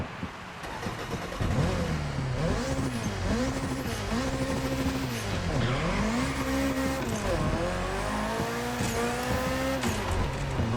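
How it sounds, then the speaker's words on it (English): A Lancia Rally 037 rally car in The Crew Motorfest, engine revving hard through repeated rising and falling gear changes, loud and close, with tire squeal and a continuous roaring drone throughout. "this beautiful Lancia. Now I don't remember the name of it for some reason, but let's listen to how it sounds. It is a rally car"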